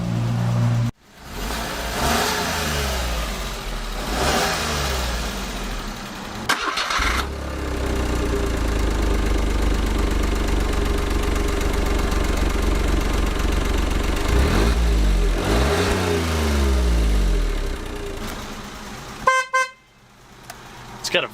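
A 2009 Smart Fortwo Passion coupe engine starts and revs up and down, its exhaust loud and close, with a brief horn-like toot near the end.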